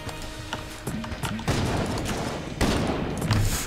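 Rapid bursts of gunfire from a gun in the roguelike shooter Enter the Gungeon, dense overlapping shots that swell louder in waves, with a deep thump near the end.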